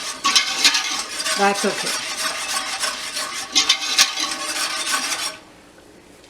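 A spoon stirs cucumber, pepper and celery relish in a pot with steady scraping and clinking against the metal for about five seconds, then stops abruptly; a voice speaks briefly.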